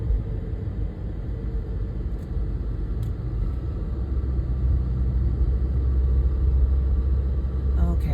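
Steady low road rumble from inside a car driving through Northwoods Wisconsin forest in fall, a continuous engine and tire drone that holds level throughout with no talk.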